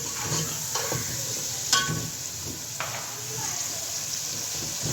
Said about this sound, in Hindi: पाँच मिनट इसको मैं भूनूंगी